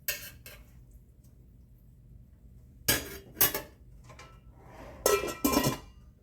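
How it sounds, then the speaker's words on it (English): Metal lid set onto a pot of simmering gumbo, several sharp clanks and clinks in a few separate bursts, close and fairly loud, with quiet pauses between them. "I'm going to put the lid on."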